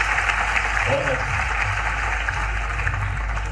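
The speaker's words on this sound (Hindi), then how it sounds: "ताली बजाओ सरपंच साहब के लिए" An audience applauds for a village sarpanch at a cooperative day event in Bhopal, a dense continuous wash of clapping with a low hum underneath.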